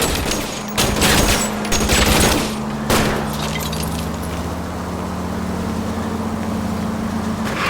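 Gunfire in the L.A. Noire video game during a car chase, with a burst of rapid shots early on and another sharp crack near the middle, over a steady engine drone that carries through to the end.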